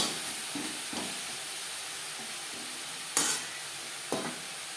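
Carrots for gajar halwa stirred in a hot pan: a spatula scrapes in slow, repeated strokes over a soft, steady sizzle, with two sharper scraping swipes near the end.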